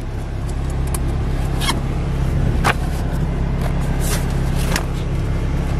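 Star 266 truck pulling away, a steady low engine rumble running throughout at near-constant loudness, with a few sharp clicks and brief bursts of noise scattered over it.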